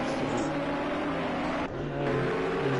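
A black and yellow Lamborghini race car accelerates at the Bathurst circuit in the racing game Project CARS 2, giving a steady, moderately loud engine drone that holds its pitch with a brief dip partway through.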